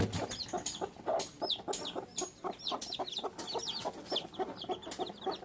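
A hen with two chicks clucks softly and repeatedly, her low calls mixed with high chirps from the young, all at moderate distance with no talking.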